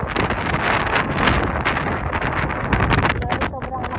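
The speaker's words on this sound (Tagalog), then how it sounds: "sobrang lakas po ng hangin guys" Heavy wind on a cold night in the UAE buffets the microphone in loud, roaring gusts that crackle and thump continuously for a few seconds.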